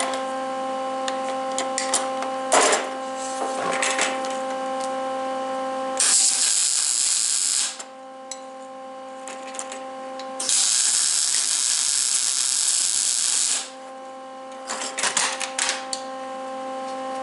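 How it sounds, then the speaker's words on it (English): Welding a pin in place on a toe board, with loud steady buzzing crackle in two long bursts separated by quieter mechanical humming and ticking, close and without talk. "I want to weld that in place"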